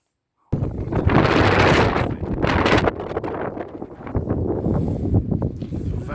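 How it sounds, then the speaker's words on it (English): Strong wind buffets the microphone in loud, rumbling gusts, with a constant roaring rush that rises and dips. "Very windy."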